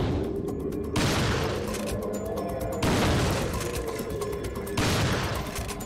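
A pump-action shotgun fires in Resident Evil 4. Roughly three or four heavy booming blasts fall about two seconds apart, each followed by a dense mechanical rattle, loud and close, with no voices.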